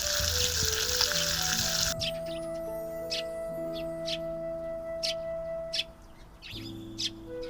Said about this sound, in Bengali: আলুটা একটু ভালো করে ভেজে তুলে নিয়ে মাছটা ভেজে নেব।